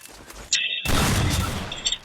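Sharp burst of video game gunfire during a one-versus-one custom match shootout, loud and dense shots starting abruptly midway and continuing to the end.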